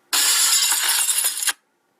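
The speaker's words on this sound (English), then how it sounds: "he accidentally knocked the mirror to the ground" A mirror knocked to the ground shatters in a sharp, loud crash of breaking glass, with tinkling fragments over about one and a half seconds before abrupt silence.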